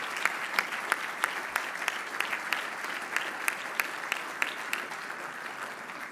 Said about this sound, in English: Let's give His Eminence a round of applause.